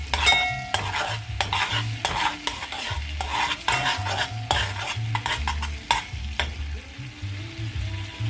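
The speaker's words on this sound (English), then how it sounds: "Then you'll add 1 teaspoon of garlic and stir." Garlic sizzles in melted butter in a hot frying pan while a utensil stirs it, giving repeated close scraping strokes over a continuous frying crackle with no speech.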